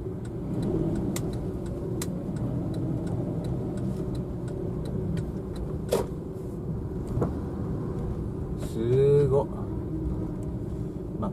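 A car drives out of the parking area of Suwa Shrine in Fujioka, Gunma, its low engine hum steady and nearby under a person talking, with faint ticking sounds.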